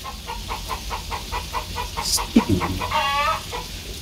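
Chickens cluck in a steady rhythmic series nearby, with a brief squawk and a longer drawn-out call near the end.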